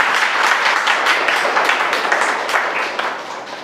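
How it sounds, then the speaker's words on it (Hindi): A congregation at a church service claps hands together, a dense, loud, steady patter of many hands with no voices, fading slightly toward the end. "ताली बजाकर प्रभु का धन्यवाद करें।"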